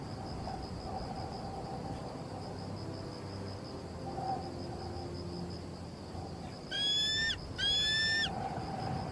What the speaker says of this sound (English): It is a cry high-pitched, ringing and echoing across the water from the bird Zambians consider the very soul of the river.